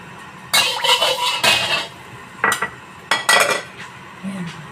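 Garlic and onion are being sautéed in a pan for fried noodles with sambal. Close metallic scraping and clinking from the pan and utensil come in several short bursts separated by quieter gaps.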